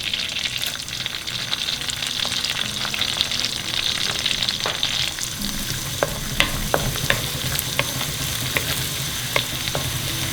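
Garlic frying in hot olive oil and pan juices for a salmon pasta, a steady close sizzle running throughout with a few sharp pops and crackles in the second half, no talking.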